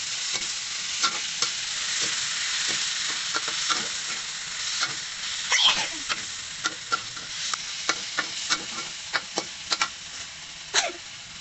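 Squid and holy basil stir-fried in a pan, with a steady wash of sizzling and a run of sharp scraping clicks from a spatula striking the pan at irregular intervals, close and loud, no one speaking.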